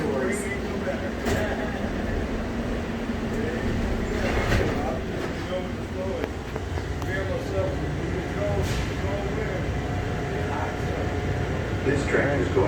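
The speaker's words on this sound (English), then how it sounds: "This train is going to Terminal 3 for baggage claim, ground transportation, ticketing, and e-gates." Underground airport tram at Las Vegas airport rumbles along with a steady hiss and rattle, metallic squeaks and clunks cutting through, while people talk and an announcement plays.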